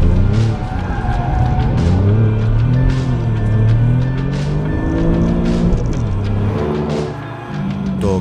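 An Alfa Romeo Giulia Quadrifoglio with a Ferrari-inspired 2.9-litre biturbo V6 engine revs hard and pulls through the gears, its loud, rising engine notes climbing and dropping repeatedly as it accelerates.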